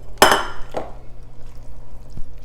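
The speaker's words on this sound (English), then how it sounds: "So go ahead and get that cooked beef in there" Cooked beef lands in a pan of pasta fagioli soup with a sharp wet clatter, followed by a second softer splash and a faint clink as the spoon settles.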